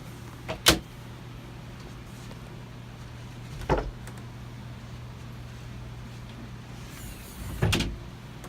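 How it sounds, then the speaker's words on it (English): The electric motor of a Hallmark camper's power roof lift system, heard as three short whirring bursts spaced a few seconds apart, the last one longer, over a steady low hum. "Here's the electric motor for the power lift system."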